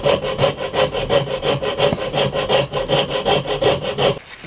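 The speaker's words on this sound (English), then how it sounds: "You absolutely want to let the saw do the work." A hand saw cuts a slot in wood for a custom LP-style guitar body, giving a steady rasping back-and-forth rhythm of about two strokes per second, loud and close, with no talk.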